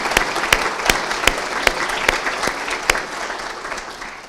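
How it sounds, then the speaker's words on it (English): An audience at a corporate state-of-the-company event breaks into steady applause, a sustained wash of clapping with a few sharp, distinct claps standing out near the front. "Round of applause for everyone."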